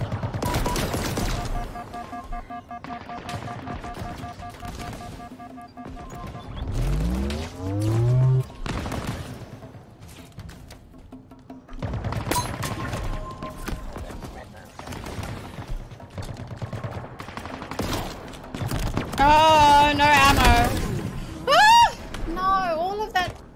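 Rapid bursts of automatic gunfire from the Halo Infinite campaign, loud and repeated, mixed with vehicle sounds, explosions and rising sci-fi tones, while a player talks over the action.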